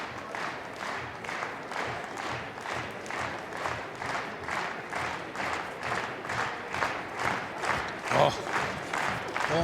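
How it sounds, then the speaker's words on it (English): Spectators at a women's -63 kg judo Grand Prix final block make steady, rhythmic crowd noise, rising and falling in regular pulses like chanted support, moderately loud and continuous throughout. "Crowd giving some support"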